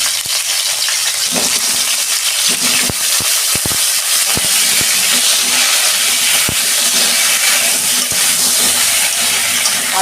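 Cauliflower frying in oil in a wok makes a constant loud hiss, with scattered sharp clicks and taps from the utensil against the pan, and no talking.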